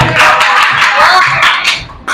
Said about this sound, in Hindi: अरे भाई क्या तालियां बजाते